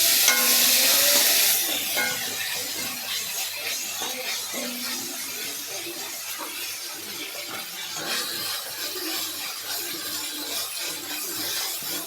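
Continuous sizzling of spices tempering in a pan for vegetable kurma, with onion added, scraping stir strokes throughout and a louder hiss at the start.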